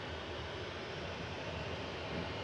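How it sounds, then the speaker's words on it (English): A six-year-old Airbus A350-900 taxiing to its stand at Manchester Airport, a steady broadband engine roar heard from a distance, unbroken and without voices. "A350-900 this morning, a 6-year-old example. Taxiing into its stand."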